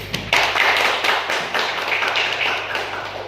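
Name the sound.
audience clapping hands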